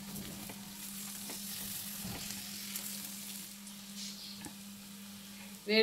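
Chicken fry with coriander is stirred in a hot pan, a soft sizzle running under intermittent scraping strokes and light clinks, ending in a sharper knock at the close.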